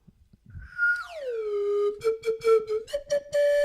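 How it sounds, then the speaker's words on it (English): A slide whistle plays close and loud: one long note swooping down, then a run of short bright toots stepping up in pitch. "it's a slide whistle"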